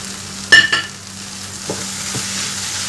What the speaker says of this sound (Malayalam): നമുക്കിനി ഇതിലേക്ക് നേരത്തെ മിക്സ് ചെയ്ത് വെച്ച തേങ്ങയും ചെമ്മീനും ചേർത്ത് കൊടുക്കാം